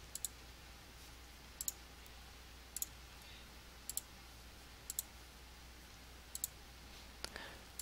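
Computer mouse clicks during work on a hyperlinked PowerPoint game, heard as sharp double clicks recurring about once a second in a quiet room, with no talking.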